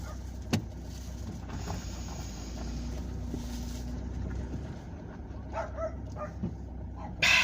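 A neighbour's dog barks outside during a car drive near Monasterevin, County Kildare. One sharp bark comes early and another near the end, both over a steady engine and road rumble.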